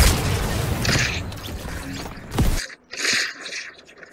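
Rockets exploding in the Fortnite video game, a dense rumbling barrage of blasts and booms that cuts off abruptly, followed by scattered sharper impacts and clatter.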